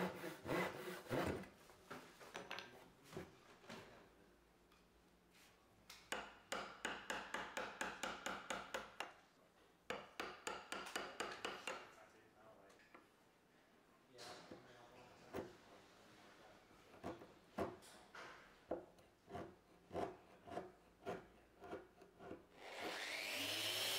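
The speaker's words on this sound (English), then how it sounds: "cut to the lines using a saw and then chisel back to them to refine it" Walnut wood cut by hand with a saw and then pared with a chisel: bursts of rhythmic rasping saw strokes alternate with sharper scraping and tapping chisel cuts, close and clear with pauses between passes.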